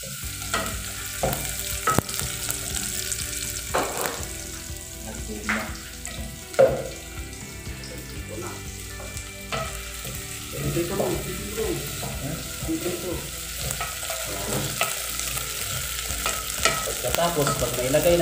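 Onions sauté and sizzle in a pan while a utensil stirs and scrapes against it, with clinks and knocks throughout, fairly close.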